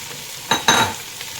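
Shrimp stirred in a frying pan for ginataang santol, two short scraping, sizzling strokes close by, with no talk.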